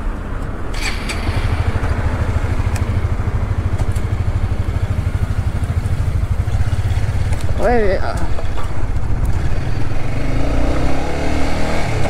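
Motorcycle ridden in Singapore after a clutch cable replacement, its engine droning steadily and loudly throughout with brief rising revs, some clatter and wind rush, and a short whistle-like tone partway through.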